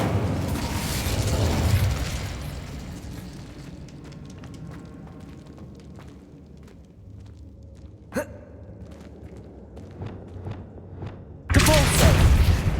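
An Incendio fire spell is cast in Hogwarts Legacy, a loud roaring whoosh that opens the clip and fades into a quieter game soundscape, followed by a sharp pop and a second loud burst at the end.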